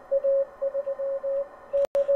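Morse code heard from a radio receiver, a clear steady tone keyed in short and long pulses at an even rhythm, with a brief sharp click near the end.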